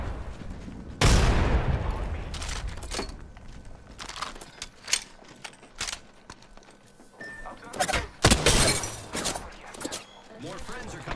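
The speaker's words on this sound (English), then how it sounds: "Look out, grenade!" A loud, close grenade blast in Apex Legends bursts early and tails off, followed by scattered sharp gunshots and clanks while voices call out.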